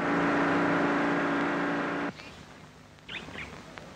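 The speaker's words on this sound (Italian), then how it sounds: "Siamo nella sala prove di una fabbrica costruttrice di auto da corsa a Roma." Racing car engine in a factory test room in Rome, a loud steady revving drone for about two seconds that cuts off abruptly, leaving a quieter background with faint chirps.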